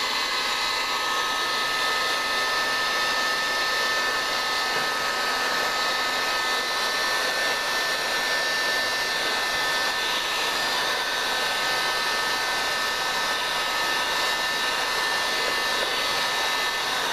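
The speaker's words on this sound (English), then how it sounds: "I'm using a heat gun and" A heat gun blows in a steady, unbroken roar, melting cheap candle wax into a wooden dome-ceiling forming jig, loud and close throughout.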